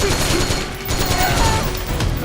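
Dense, continuous machine-gun fire in the PS3 stealth-action game Metal Gear Solid 4: Guns of the Patriots, a loud rattling fusillade that barely lets up throughout.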